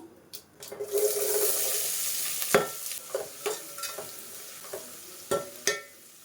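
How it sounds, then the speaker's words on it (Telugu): Thinly sliced onions and green or red chillies hit hot oil for a village-style chicken curry, giving a burst of sizzling. Sharp scraping stirs follow at an irregular pace, close up, with no talking. "సన్నగా కట్ చేసిన ఆనియన్స్ వేసేద్దాము."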